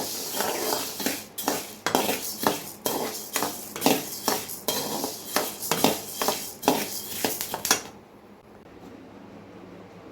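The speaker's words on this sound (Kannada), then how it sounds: "ಕಾಳು ಕೆಂಪಿಗೆ ಹುರಿಬೇಕು ಸ್ನೇಹಿತರೆ ಚಿಟಪಟ ಚಿಟಪಟ ಅಂತೇಳಿ ಸೌಂಡ್ ಬರಬೇಕು" Rapid metallic scraping and clinking of a spoon stirring horse gram roasting in a pan, steady rhythmic strokes up close, then stopping into a quiet hum.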